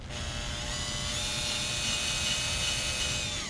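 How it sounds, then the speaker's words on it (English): A power drill whines steadily at high speed for a few seconds while drilling bolt holes for a 64-tooth sprocket on a 72V Sur Ron electric motorbike, a constant loud buzzing hum with no pauses. "bringing out the drill"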